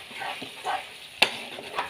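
Tomatoes stirred in a pan for Bengali-style tomato chutney with dates and mango leather, soft scraping strokes over a faint low sizzle, with one sharp utensil clink near the middle.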